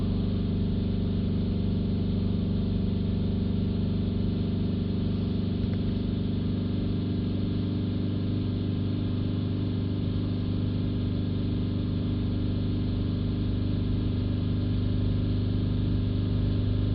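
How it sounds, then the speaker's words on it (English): A BMW 318d diesel engine with an EGR air mass flow fault runs steadily with a low, even hum as revs drop, holding a constant drone with no clear change in pitch throughout. "It's dropping there, the revs are dropping."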